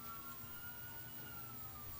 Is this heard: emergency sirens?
yes